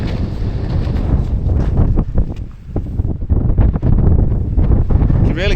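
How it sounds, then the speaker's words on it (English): Wind gusting across an open mountain tarn at Angle Tarn in the wintry Lake District, buffeting the microphone as a steady, loud, broadband rumble that swells and dips throughout. "You can really see the wind moving on the tarn."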